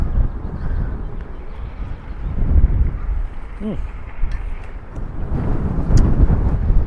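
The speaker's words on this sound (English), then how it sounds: "Oh my gosh, the wind!" Strong wind buffets the microphone outdoors on a downtown Seattle street, a loud, gusty roar that swells and eases throughout, with a faint voice and city noise mixed in.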